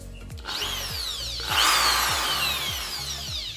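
A Bosch power drill runs up in quick whirring bursts with rising and falling pitch, then settles into a steady, louder high whine, close and unaccompanied by speech.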